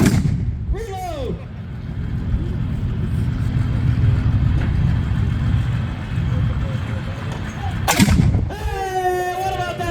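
M4A1 Sherman tank main gun firing during an outdoor demonstration: two heavy booming blasts several seconds apart over a constant engine rumble, with shouting voices near each shot.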